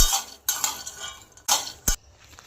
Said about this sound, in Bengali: এইভাবে তোমরা বাদামটাকে ভাজবে, নাহলে বাদামটা কাঁচা থেকে যাবে।